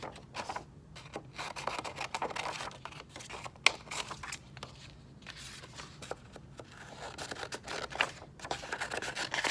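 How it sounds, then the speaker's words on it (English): Scissors snipping through paper along a drawn line, a steady run of close, dry cuts and rustles at moderate volume with no talking. "take your scissors and very carefully cut along that line that you drew, cutting those pieces apart"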